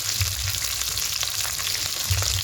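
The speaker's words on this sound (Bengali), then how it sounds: "যে এই সমস্ত একটু হালকা করে ভেজে দেবো।" Dry red chillies and a few garlic cloves frying in oil in a pan, a steady close sizzle with gentle bubbling and occasional stirring, no talk.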